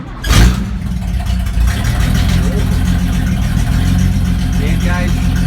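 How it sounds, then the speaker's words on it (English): A VG Valiant ute engine cranks and catches with a loud burst, then settles into a steady, rumbling idle that runs close by, with a voice speaking briefly over it. "if you walk in here and hit the key now, she should start."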